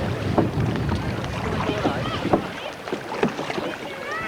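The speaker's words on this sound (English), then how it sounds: "I'm paddling on the right." Paddle strokes of a Canadian canoe on Kielder Water at a 1990 summer camp, a steady series of splashy dips roughly every second, close by over wind noise on the water.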